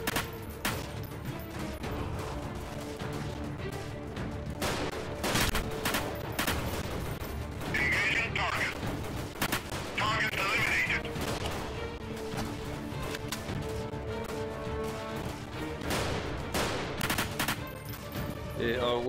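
Dense, sustained gunfire in a Free Cossacks army guerrilla warfare video game battle, with rapid overlapping shots and bursts running loud and continuous throughout, with occasional sharper cracks.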